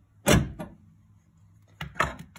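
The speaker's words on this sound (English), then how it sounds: "Power door lock cylinder will lift up and allow the door to slide out." Electric power drawer lock actuating in a cabinet, a solenoid-driven locking cylinder giving a soft thump and short rattle, then after a pause a second pair of quick clicks and clunks, close and otherwise quiet.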